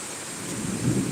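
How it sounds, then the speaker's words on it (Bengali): Night rain falls over Dhaka as a steady, dense broadband hiss, with a low rumble swelling briefly near the end. No voices are heard. "এখন বৃষ্টি পড়ছে মাসাল্লাহ জুম্মার দিনে এই বৃষ্টি হচ্ছে"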